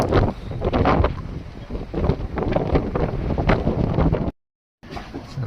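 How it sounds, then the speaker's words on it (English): Strong gusts blast across an anchorage in Croatia, a loud continuous roar buffeting the microphone, cutting out briefly near the end before rushing back. "The gusts are pretty regularly going over 30"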